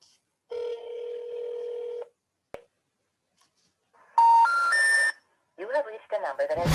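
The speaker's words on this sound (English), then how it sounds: "I'm going to give him a call right now." A landline telephone number is dialed: a long steady dial tone gives way to a quick run of distinct touch-tone keypad beeps, clear and close, followed by faint rising chirps.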